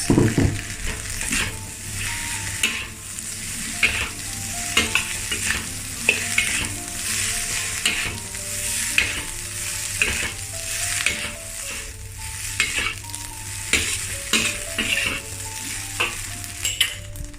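Kangkung leaves stir-fry in a hot pan for Indonesian nasi goreng kampung, sizzling steadily while a utensil scrapes and clinks against the metal in a busy, repeated rhythm, with no talk.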